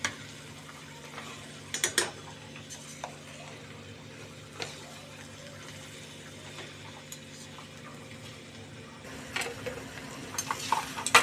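A spoon stirs cabbage rice frying in a pan, with scattered scraping clinks and soft taps over a low steady background, clearer near the end, without talk.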